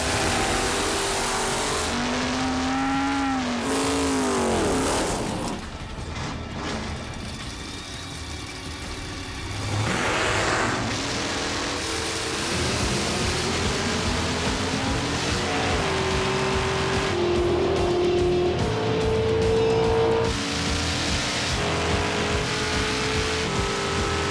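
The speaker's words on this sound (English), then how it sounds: "Let's see the final burnout of the night." Drag race cars at a Chevy championship event in Topeka rev hard through a final burnout, loud roaring engines with rising and falling pitch, crowd and track noise filling the background throughout.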